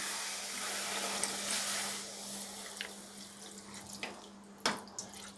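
Water is poured a little at a time into a besan and potato kofta mixture, a soft continuous trickle that is quiet and close, with a few small splashes and drips toward the end.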